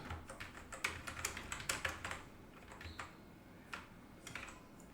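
Typing on a computer keyboard, with bursts of quick key clicks followed by a few isolated taps, close and clear with no speech.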